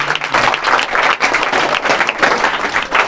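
Audience applause welcoming a student onto the stage at a ceremony honouring Class 12 students, a dense, steady burst of many hands clapping loudly and continuously throughout.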